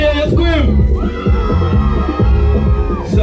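A live soca concert crowd at the Leeward Soca Monarch screams and cheers loudly and continuously, a dense wash of voices over thumping music.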